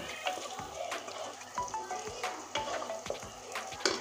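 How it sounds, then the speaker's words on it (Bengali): Spice paste for a dhaba-style pomfret fish curry stir-fried in a pan, with a soft continuous sizzle and repeated scraping strokes and light taps of a spatula, close and moderately quiet. "এই দেখুন আমি মশলাটা সুন্দর করে লাল করে কষিয়ে নেব।"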